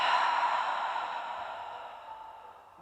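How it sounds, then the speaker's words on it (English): A long, steady breath is let out through the mouth during a yoga breathing exercise, a soft, airy sigh that is close and gradually fades away. "Breathing in through the nose 2 more times and out through the mouth."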